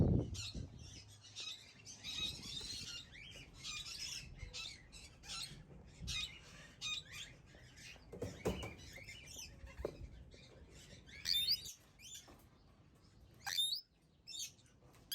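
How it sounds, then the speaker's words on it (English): Plum-headed parakeets give shrill, squawking calls and chirps in irregular bursts, some close and loud, others quieter, with occasional rustling between them. "These cool looking parrots are called plum-headed parakeets."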